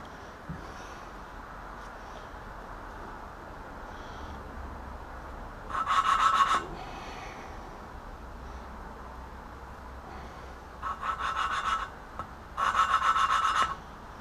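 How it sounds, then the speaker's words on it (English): Valves are lapped into a BMW M10 cylinder head from a project E30, with three short bursts of gritty back-and-forth rubbing scrape, close and moderately loud, separated by quiet pauses. "this is the fun part about lapping valves"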